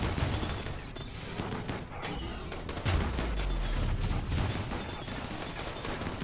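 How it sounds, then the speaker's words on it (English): Auto cannons in the video game RimWorld fire in dense, overlapping bursts, a steady rattle of repeated booming shots with heavier low thumps rising midway, loud and continuous with no talk. "Do love the sound of those auto cannons."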